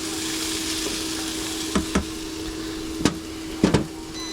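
Dinner frying in a pan, a steady broadband sizzle throughout with a few sharp clinks and knocks of utensils at intervals, close and moderately loud.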